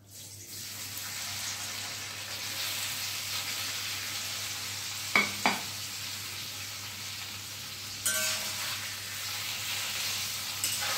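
Pieces of paneer sizzle in hot oil, giving a steady, moderate frying hiss that lasts throughout. A few sharp clicks of utensils break in midway and near the end.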